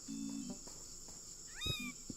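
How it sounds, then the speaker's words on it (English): Cat meowing in the video game Crossing Souls: one short, bright rising meow, moderately loud against a steady high-pitched game music drone. "Meow."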